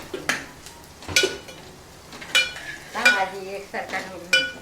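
Onions fry in a pan for a chicken dish, with a low sizzle under repeated bursts of metal spoon scraping and clinking against the pan at uneven intervals.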